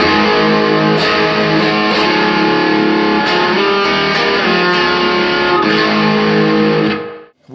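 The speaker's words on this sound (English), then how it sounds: "Let's try the pickup with distortion. This is a DynaRed distortion." Electric guitar with a Lundgren pickup in the bridge position played through a DynaRed distortion pedal, thick sustained distorted chords and notes with rhythmic accents, loud and alone before cutting to silence at the end.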